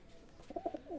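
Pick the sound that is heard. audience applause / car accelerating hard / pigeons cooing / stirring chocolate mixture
pigeons cooing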